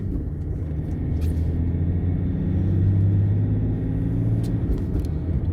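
Cabin sound of a BMW E60 525d diesel saloon cruising on a quiet country road: a steady low engine and road rumble, swelling slightly midway, with a few faint clicks on top.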